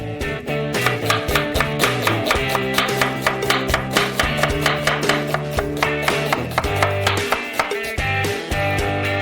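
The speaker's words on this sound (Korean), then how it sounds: "이제 양파를 작은 큐브로 썰어주세요." A knife chops an onion into small cubes on a board, a steady, fast run of sharp, loud strokes with a few brief pauses and no talk.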